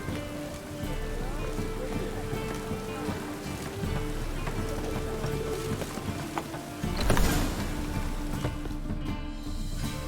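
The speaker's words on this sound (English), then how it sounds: "Rain again." Rain falls steadily in The Witcher 3 video game, a dense, even patter that continues throughout, with a brief louder rush of sound near the end.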